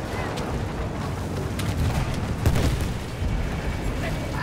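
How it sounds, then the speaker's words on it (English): Grenade going off in Battlefield 1 amid noisy battlefield ambience: a rumbling, low blast swells up about halfway through, over a constant rough din. "Yep, see that fucking grenade"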